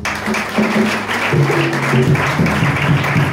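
A church congregation claps in acclaim of Jesus, a dense, steady patter of hands over sustained musical tones, loud and continuous for a few seconds.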